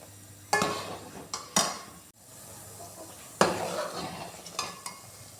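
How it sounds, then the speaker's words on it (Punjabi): A spoon stirs and scrapes ghee in a metal pot as melted butter cooks over a medium gas flame: several distinct scraping strokes at irregular intervals over a soft, low background, with no talking. "ਵਿੱਚ ਵਿੱਚ ਘਿਓ ਨੂੰ ਹਲਾਉਂਦੇ ਰਵਾਂਗੇ"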